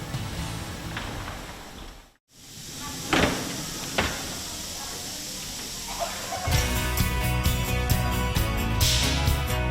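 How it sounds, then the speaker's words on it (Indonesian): A high-pressure steam machine running above 150 °C to cook noodle dough in a noodle factory in Solo hisses loudly and continuously, with a brief drop-out, a few sharp clanks, then a denser rattling machine noise near the end. "dimasukkan ke dalam mesin steam bertekanan tinggi dengan suhu di atas 150 derajat Celcius untuk dimatangkan kembali"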